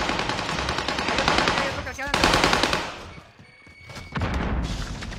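Rapid automatic gunfire in the video game Warzone, loud and dense bursts of rattling shots with a brief lull in the middle before firing resumes, all under excited voices.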